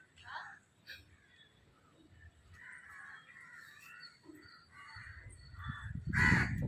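Crows caw repeatedly nearby, several harsh calls spread through the clip, with a louder burst of cawing at the end over rustling background.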